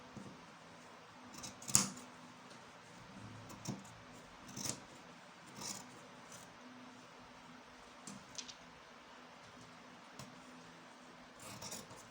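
Scissors snip through dress fabric in a quiet room during dress cutting, giving a few separate faint crisp cuts spaced several seconds apart, the sharpest one early on.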